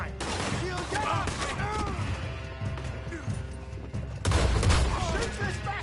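Gunshots and crashing impacts in a Red Dead video game gunfight, loud and chaotic, with a heavier burst of shots and thuds toward the end, mixed with shouting voices.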